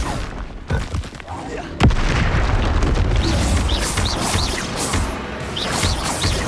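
A Confringo explosive spell blast in Hogwarts Legacy lands as a sharp, loud boom amid ongoing combat clatter and crashes, with a voice shouting over the action.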